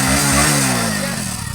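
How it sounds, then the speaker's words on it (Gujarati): A Star motorcycle engine coughs and catches as it is started, a loud low chugging rumble for about a second before it fades and sputters. "હું તને ચાલુ કરીને બતાવી દઉં જુઓ એ આ સ્ટાર ગાડી છે"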